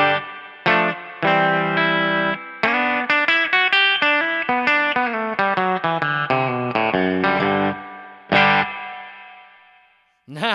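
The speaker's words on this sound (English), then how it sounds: "that is a good springy reverb right there" A distorted electric guitar on the bridge pickup of a Kiesel JH6 plays a quick run of notes through a spring reverb, its tail ringing on after each phrase and splashing as a note fades.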